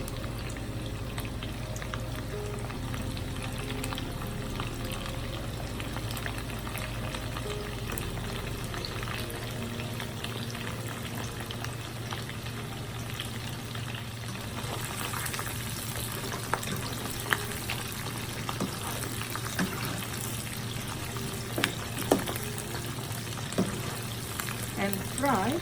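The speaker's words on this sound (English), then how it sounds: "And fry for a few minutes" Steady sizzling and bubbling of chicken frying in oil in a hot pan for a stir-fry, with occasional crackles and pops; a low background hum runs underneath.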